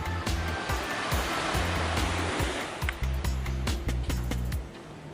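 Waves breaking on a beach in Jamaica, a steady loud wash of surf with repeated low thumping pulses throughout, close and continuous with no talk.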